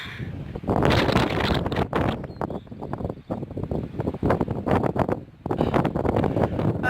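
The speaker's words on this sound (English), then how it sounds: "the wind is blowing so hard" Strong wind gusts roar against the microphone outdoors in heavy weather, a loud continuous buffeting that swells and dips, with brief lulls near the middle and a renewed blast at the end.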